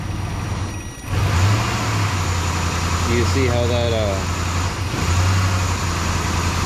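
A Dodge Ram 1500 engine with a faulty charging system idles loudly and steadily, its low hum dipping as if about to stall before recovering, with a brief faint whine midway.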